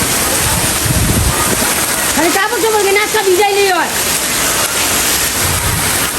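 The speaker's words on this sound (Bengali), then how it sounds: "দেখেন চরম একটা বৃষ্টি হইতেছে" Heavy rain pours down steadily, loud and close, flooding a house courtyard. It forms a continuous hissing wash throughout, and a voice briefly talks over it midway.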